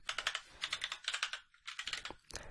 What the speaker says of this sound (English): They make a different sound, and that's the key hitting the aluminium plate on the bottom.